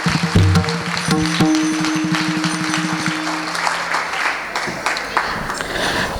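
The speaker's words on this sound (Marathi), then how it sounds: "जोरात एकदा पुरुषदा टाळी वाजवायची आहे" An audience at a kirtan festival applauds, a burst of clapping that swells and then thins over several seconds, with a sustained musical tone and crowd murmur under it.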